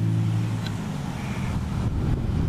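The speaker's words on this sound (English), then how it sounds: "I got a lot of traffic noise." Steady road traffic noise with a truck rolling by, a low continuous rumble that stays fairly loud and constant throughout, with no talking.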